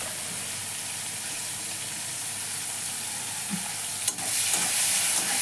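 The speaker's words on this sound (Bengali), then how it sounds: "এখন চিংড়ি মাছটাকে একটু ভালো করে ভেজে নেব।" Shrimp fry in hot oil in a pan with a steady, close sizzle, plus a brief clatter of stirring near the end and no speech.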